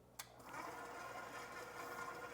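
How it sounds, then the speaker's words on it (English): An electric mixer runs at low speed while grain-free, egg-free muffin batter is mixed, giving a steady, fairly quiet whir that keeps going after a brief click as it switches on. "I'm gonna turn the mixer back on low speed"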